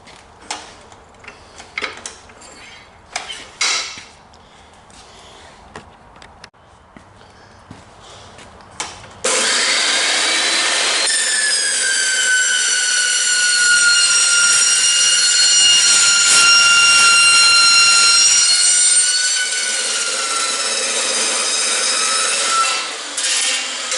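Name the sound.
cold cut saw cutting steel tube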